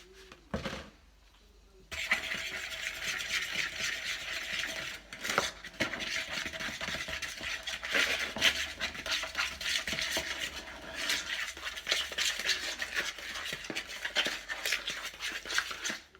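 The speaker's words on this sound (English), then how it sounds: "You just want to mix it thoroughly." A utensil stirs powder into an egg mix for boilie fishing bait in a bowl, a steady close scraping and rubbing that runs continuously after a brief quiet start, with no voices.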